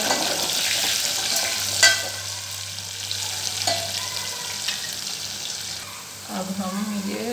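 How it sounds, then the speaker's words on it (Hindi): Potatoes and green chillies sizzle and fry in a pan for soybean curry, a steady close hiss with some stirring and a brief tap-water rush near the end. "अब हम इसको फ्राई करेंगे। हम फ्राई कर लेंगे।"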